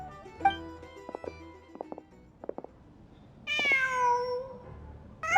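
A cat in Genshin Impact lets out a clear meow near the end, preceded by several short, soft chirps and small game sounds, with no talk.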